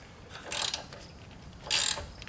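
A ratchet wrench on a Chrysler 200 stabilizer link nut gives two short bursts of close, clicking ratchet sound about a second apart over a quiet background.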